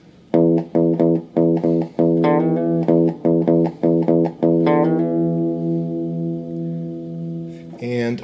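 An electric guitar with overdrive repeats a short riff on the 4th string several times in a steady rhythm, then ends on a held ringing chord.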